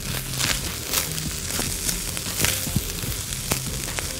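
Onion and garlic fry in a pan with a constant dense sizzle, broken by scattered clicks and scrapes of stirring near the microphone; no voices.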